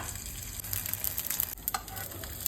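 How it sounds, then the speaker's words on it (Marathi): Paneer shallow fries in oil in a pan, a steady close sizzle with scattered spitting crackles and a brief stir near the end, with no talking. "पनीर मी शॅलो फ्राय करून घेते"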